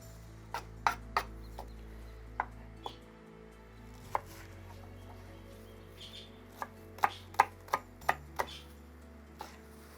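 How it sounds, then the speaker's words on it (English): A knife chops fresh chives on a cutting board in quick clustered knocks, separated by short pauses, close and crisp against a quiet room with faint background hum. "I'll cut off the chives first"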